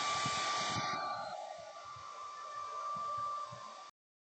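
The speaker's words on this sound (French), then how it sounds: "on fait sécher au séchoir" A hair dryer blows steadily over cleaned NES controller cable parts, a close, even whooshing hiss with a faint tonal whine that runs for about four seconds, then cuts off abruptly.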